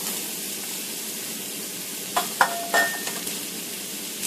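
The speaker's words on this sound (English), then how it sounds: "now we're going to add to that oil our celery, onion" Celery, onion and garlic sautéing in hot oil, a steady hiss of sizzling with a few clinks and scrapes of a utensil partway through.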